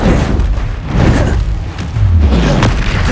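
In Hogwarts Legacy, the Confringo spell fires as a series of heavy, booming blasts. The loud low thuds repeat roughly every second, mixed with whooshing game effects.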